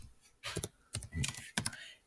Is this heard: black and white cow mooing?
no